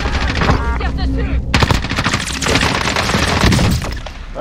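Loud video game gunfire hammers away at a target, with rapid automatic bursts and sharp cracks that carry on almost continuously, plus a brief high tonal stretch partway through.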